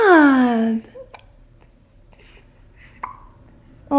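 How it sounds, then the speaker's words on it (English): A newborn baby hiccups in short, soft bursts at home, isolated catches scattered between louder crying or vocal sounds at the start and end, close to the mic. "Oh, the hiccups."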